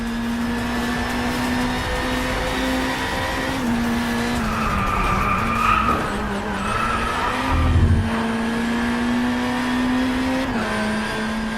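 A BAC Mono race car in the DRIVECLUB video game drives a lap of the AHR track, its engine droning and shifting pitch with tires squealing through corners, loud and continuous with no talk.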